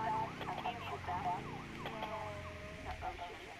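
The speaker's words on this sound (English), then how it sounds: "when the siren or the lights and sirens stop, that's when you stop going underwater" A police car in GTA 5 wails with a siren that sweeps up and down repeatedly, steady and fairly close over a low background rumble.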